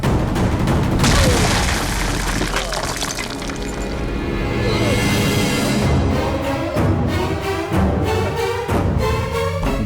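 A gunshot in a South Indian action movie dubbed into Hindi rings out among loud booming impacts and dramatic music, with dialogue voices mixed in throughout.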